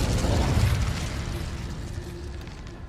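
Incendio fire spell cast in Hogwarts Legacy, a loud roaring whoosh of flame with a deep booming burst that slowly fades into a crackling rumble.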